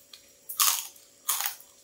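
Crunchy roasted lechon skin being bitten and chewed up close, two sharp crackling crunches about a second apart with a faint click before them.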